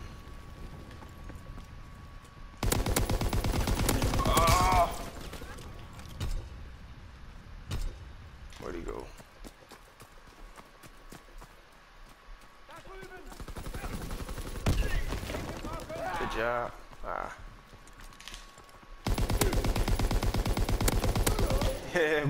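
Rapid automatic gunfire from the World War II shooter Call of Duty WW2 comes in three dense bursts, loud and crackling, separated by quieter stretches of game sounds and someone talking.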